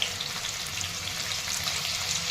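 Paneer frying in a pan gives a steady, close hiss and sizzle that holds at an even level throughout, with no voices.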